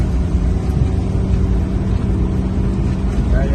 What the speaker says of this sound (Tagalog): Kaya kung naririnig yun yung makina ay medyo hirap kasi nga first gear